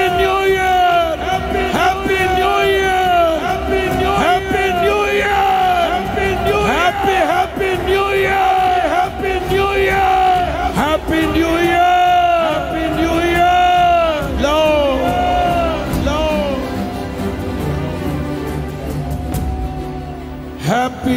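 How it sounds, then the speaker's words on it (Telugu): A large church congregation claps and shouts jubilantly at a New Year celebration, a dense continuous roar of cheering voices and whoops with a speaking voice over it throughout. "హృదయానందంతో చప్పట్లు కొడుతూ అదిగో హ్యాపీ న్యూ ఇయర్"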